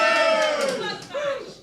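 Supporters at a Clare senior football championship preview night roar and shout for the St. Joseph's football club, a loud close burst of massed voices that dips midway, swells again and then fades.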